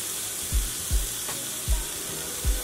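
Pork loin sizzling as it browns in a pan, a steady close hiss broken by four soft low thuds at regular intervals, with no voices.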